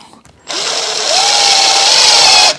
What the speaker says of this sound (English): we'll put the screws through